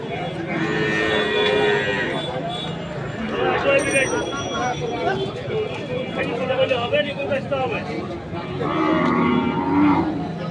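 Cattle at a livestock market moo loudly and repeatedly, long low calls rising over a crowd of bargaining voices and general market babble.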